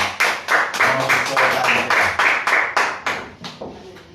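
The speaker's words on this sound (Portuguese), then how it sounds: "Dê uma linda salva de palmas ao Senhor" A church congregation claps together in a steady, even rhythm, loud and continuous for several seconds.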